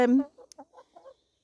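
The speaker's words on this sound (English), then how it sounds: "I got to the outer gate and I heard a crow." A single hen lets out a short, strained crow-like call that breaks into a few clucking notes, close by and fairly quiet.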